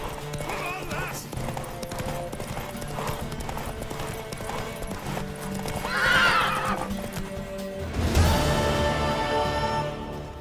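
Horse hooves clip-clopping steadily in The Witcher 3, joined by a loud neigh around the middle and a stronger whinny near the end, with game voices talking over the hoofbeats.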